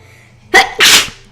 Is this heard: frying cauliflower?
no